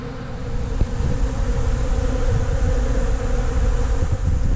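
A constant low hum of many honey bees buzzing after honey extraction fills the air, steady and fairly loud, with faint wind noise underneath.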